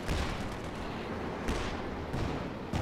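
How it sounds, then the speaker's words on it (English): Rapid MG34 machine gun fire in the Company of Heroes 2 strategy game, a dense continuous crackling volley with a few heavier booming impacts from tank fire mixed in. "MG34 suppressing all these squads"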